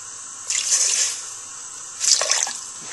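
Rice wine is poured into a Korean beef stew pot in two brief splashing pours, one after the other, close and clear against a quiet background.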